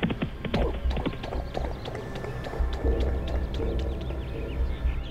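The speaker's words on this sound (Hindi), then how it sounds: "दूर से साहिबा के भाई घोड़े पर चले आ रहे हैं" Steady clip-clop of horse hooves on ground as riders approach, a continuous rhythmic trotting heard alone as a sound effect in a narrated folk tale.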